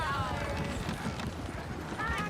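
Hooves clip-clop steadily nearby as a horse moves about in the video game Red Dead Redemption, with a whinny and voices mixed into a noisy outdoor scene.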